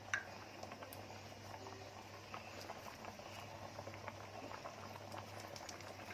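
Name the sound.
vermicelli (seviyan) cooking in boiling water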